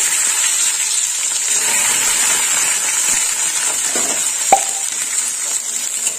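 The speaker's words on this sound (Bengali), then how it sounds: "এরকম একটু বেশি তেলেই ভাজতে হবে।" Potatoes and ivy gourd fry in a generous amount of oil, giving a steady, loud, close sizzle throughout, with one brief knock partway through and no talking.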